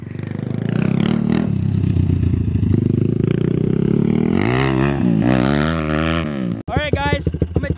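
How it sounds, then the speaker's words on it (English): Yamaha YFZ 450 ATV engine warming up, a loud close rumbling idle that rises and wavers with throttle blips, with voices talking over it near the end. "I'm gonna take Dom's insane YFZ 450 for a ride. We're gonna let her warm up"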